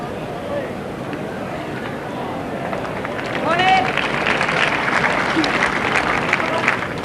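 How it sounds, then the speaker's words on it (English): A crowd around the green at a top-class outdoor bowls match applauds in a broad, steady patter that swells midway and carries on, with someone talking over it. "Crowd indicates that Tommy Johnston has the closest bowl at this moment."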